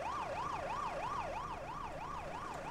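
A wailing emergency siren from the bus simulator game OMSI, its pitch sweeping up and down in a steady rapid cycle, loud and continuous with no talking.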